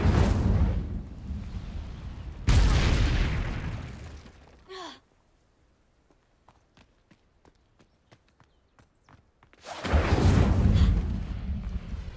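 Two loud whooshing fire blasts from the Incendio spell in Hogwarts Legacy burst out, separated by a quieter stretch of faint footsteps and small clicks, the blasts roaring briefly.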